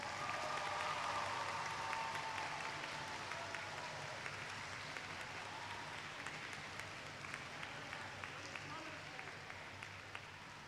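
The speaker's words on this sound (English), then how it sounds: "a crowd, you can applaud them." An audience at a graduation ceremony applauds, a broad wash of clapping that starts strong and slowly thins over several seconds, with voices murmuring underneath.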